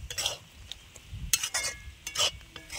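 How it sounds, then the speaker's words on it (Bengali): A spatula works through karamcha pickle mixed with spices in a pan, making intermittent scraping and clinking strokes in uneven bursts, close and fairly quiet, with no one talking. "এবারে খুন্তি দিয়ে ভালো করে এইভাবে নাড়িয়ে দেবো যাতে মশলাটা সব ভালোভাবে মিশে যায়"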